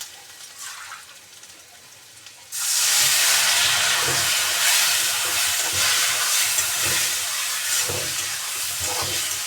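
Water poured into a hot pan of spiced masala with cumin powder bursts into a loud, sustained steam hiss after a quieter start, with faint stirring scrapes underneath and no talking.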